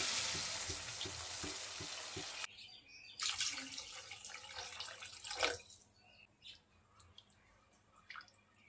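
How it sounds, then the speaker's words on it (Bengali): Water poured into a pan of sautéed bitter gourd and potato, a loud rushing hiss that cuts off abruptly, followed by softer bubbling, sizzling and stirring sounds. "ঝোলের পানি দিয়ে দেবো।"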